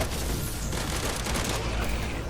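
Dense, continuous automatic gunfire with heavy recoil in the action MMO game Ashfall. The burst is loud and sustained with booming low end and no pauses.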